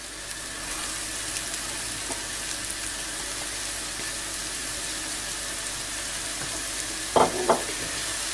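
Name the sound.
sautéing chopped carrots and zucchini in a pan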